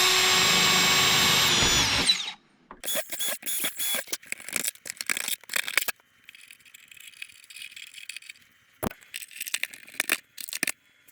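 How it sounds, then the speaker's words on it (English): A power drill drives screws into the firewall of a Seagull Models Gilmore Red Lion model airplane, heard as short repeated whirring bursts with pauses and small rattles between them, close by and with no talk. "And then we're going to put our screws in there."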